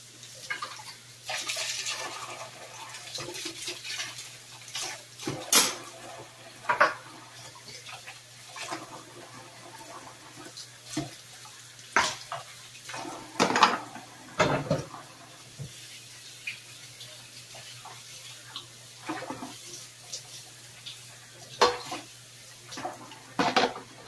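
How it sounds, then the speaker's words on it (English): Dishes being washed by hand, with running water, clinking plates and scraping utensils in irregular bursts over about twenty seconds, close and moderately loud with no talk. "Just gonna get these few dishes washed so we're ready for the next step."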